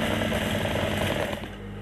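A sewing machine runs steadily, stitching a French seam in fabric, in a short continuous close-up whir that eases slightly at the end.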